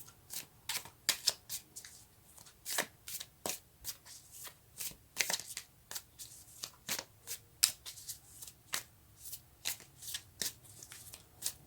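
Tarot cards are shuffled by hand in quick, repeated riffling bursts, close and crisp, a steady rhythm of rustling snaps with no talking.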